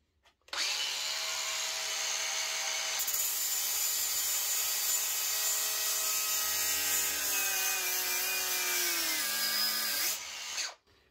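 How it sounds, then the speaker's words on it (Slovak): A Bosch GWX 18V-10 SC cordless angle grinder whines steadily grinding a weld for about ten seconds, a loud continuous high-pitched grinding whose pitch dips slightly under load before it stops. "Odskúšame brúsenie zvaru na 1.,"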